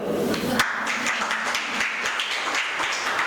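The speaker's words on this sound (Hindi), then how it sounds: "ताली बजाओ" Audience clapping at a Jain monks' religious gathering in Dhar, a dense, steady patter of many hands filling the room throughout, with no voices standing out above it.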